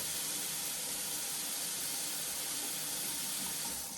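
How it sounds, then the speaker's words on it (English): Water runs steadily from a household tap just turned on, a constant close hiss and splash that continues evenly throughout with no voices. "And just like that, the water's turned on."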